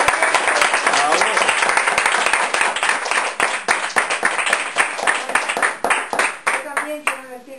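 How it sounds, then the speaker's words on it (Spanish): Audience applauding at a diploma ceremony for a gardening and biodiesel training course, steady dense clapping that thins into scattered claps and fades toward the end. "Un aplauso para la gente."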